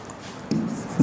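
Chalk or marker writing on a board during a Class 10 maths lesson on triangles, one short scratchy stroke midway and another at the end, close and brief.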